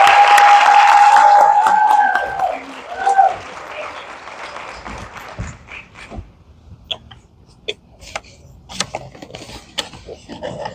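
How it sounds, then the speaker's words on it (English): Audience applause at an induction ceremony, loud and dense for the first couple of seconds with a sharp whistle, then thinning into scattered claps and quieter room noise. "Let's give Dr. Zenobia Harris a round of applause."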